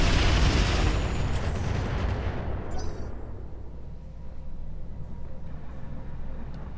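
Mech weapons fire in the Roguetech BattleTech game: a loud, rumbling barrage of explosions that starts at full strength, then slowly dies away into a low, steady battlefield drone with a few faint crackles.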